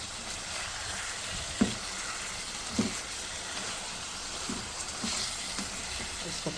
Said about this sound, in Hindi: इसको थोड़ा सा और फ्राई करूँगी मैं